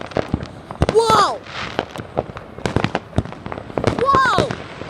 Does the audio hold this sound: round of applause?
no